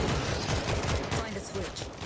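Dense, continuous gunfire from the World War Z video game, rapid overlapping shots forming a loud, steady barrage throughout, with a voice talking over it.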